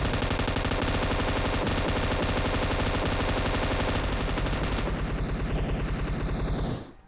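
Sustained M249 light machine gun fire in PUBG Mobile, a loud, dense continuous automatic burst lasting several seconds before cutting off abruptly.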